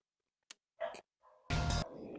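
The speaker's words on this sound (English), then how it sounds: "I don't know if you guys can hear my dogs, but I need to calm them down real quick." Dogs in a home bark and yip in short separate bursts, then give one louder, longer bark close by, ending in a softer whimpering tail.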